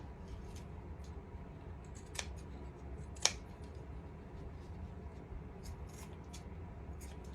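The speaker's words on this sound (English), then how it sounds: "Now I end up trimming around to make it even." Scissors snipping fabric during a glass pumpkin craft, a few sharp, quiet cuts scattered over a faint background hush, close to the listener.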